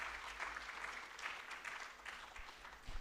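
Faint, distant applause from an audience at a Uganda water and environment week closing ceremony. It is a soft, steady wash of clapping for a few seconds.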